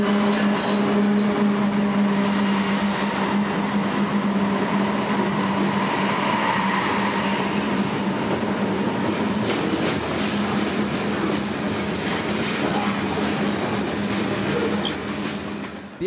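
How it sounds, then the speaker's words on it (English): An eastbound BNSF freight train led by three GE six-axle locomotives, bound for Cicero yard with hoppers, tanks and grain cars, rumbles past steadily and loudly with a constant droning engine tone, fading slightly at the end. "an eastbound BNSF freight led by 3 GE 6-axles"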